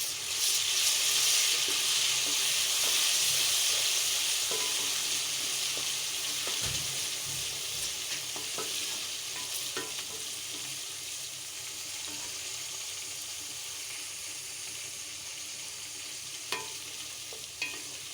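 Onions frying in oil with freshly added garlic ginger paste for a tender mutton dish, a steady close sizzle with stirring scrapes throughout, a few sharper clinks near the end, no talk.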